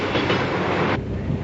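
A train runs steadily along the rails in the Ninja Hattori cartoon, a continuous close, loud rumbling roar with rhythmic clatter throughout, no talking.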